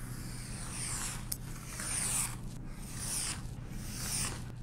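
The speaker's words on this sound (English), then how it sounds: "I use a ruler and X-Acto knife on stuff with not too many things to cut out" An X-Acto knife is drawn along a ruler through paper, giving several quiet scraping strokes spaced a second or so apart over a faint steady hum.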